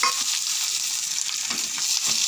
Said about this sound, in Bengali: রসুন দিয়ে দেবো, ভাজা ভাজা হবে, তখন ডালটাকে ফোড়ন দিয়ে দেবো